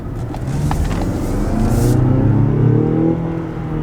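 A 2025 Mazda CX-90 plug-in hybrid accelerates, heard from inside the cabin as a steady rising engine and road rumble that swells and then eases off near the end.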